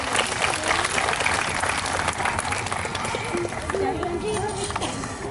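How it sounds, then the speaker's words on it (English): Audience applause at a zoo bird show for a helper volunteer, clapping across the stretch with an announcer's voice talking over it. "A big round of applause for Patricia."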